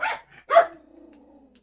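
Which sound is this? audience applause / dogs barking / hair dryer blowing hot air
dogs barking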